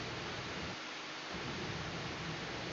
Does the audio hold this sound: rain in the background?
yes